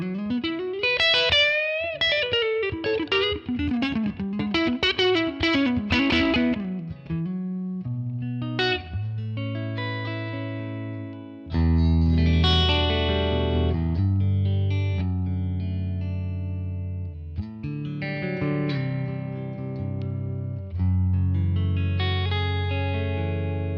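Electric guitar on the neck pickup, played through a Tonex ONE running a Fender Super Reverb amp model, loud and alone: picked single notes and runs, then sustained ringing chords with a chorus-like shimmer and reverb tail.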